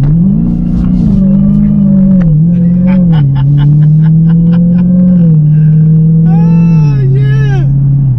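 A Dodge Hellcat's engine gives a loud, steady low drone as the car is driven and given some gas, with voices talking over it inside the cabin.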